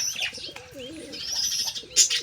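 Pigeons near a nest, with a male perched close by, give soft low cooing phrases amid brighter chirps, with a brief flutter of activity; the calls are close and moderate in level, and no one speaks.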